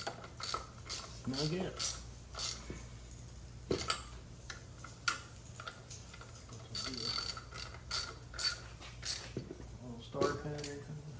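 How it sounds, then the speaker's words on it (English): A ratchet with an extension and a 6mm Allen socket clicks in short bursts while tightening on an SR20 engine, the pawl rattling close by between brief pauses, with someone speaking a few words over it. "So we got our ratchet, an extension, and I think it's a 6mm Allen head."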